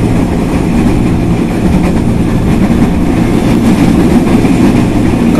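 A CLI 125 test train rushes through Manggarai station, a loud, steady roar of wheels and rail noise with a low rumble sustained throughout, close by and without talk.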